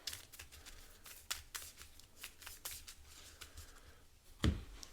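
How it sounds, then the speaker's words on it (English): A card deck shuffled by hand during a tabletop card game, a quick series of crisp riffling bursts up close, ending with a soft thud as the deck is squared. "I'll shuffle this deck up."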